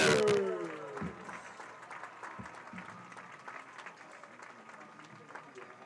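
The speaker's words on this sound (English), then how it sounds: "one more round of applause for all of our" Crowd in the stands at a high school football field giving a round of applause for seniors, a steady spread-out clapping that fades gradually, heard at a distance over a public address setting.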